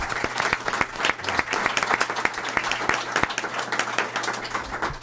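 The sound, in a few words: audience applause for panelists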